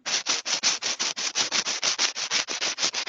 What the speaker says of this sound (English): Who's back to sanding?